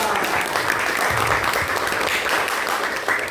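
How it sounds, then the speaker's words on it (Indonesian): Steady, dense applause from a classroom audience after a student presentation, filling the whole stretch at even loudness with no gaps. "Beri tepuk tangan yang meriah"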